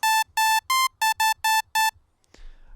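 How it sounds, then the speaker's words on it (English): Seven bright synthesized electronic beeps made in Harmor, in a steady, quick rhythm, clean pure tones, close and loud, followed by a short soft rustle. "So let's make some beeps"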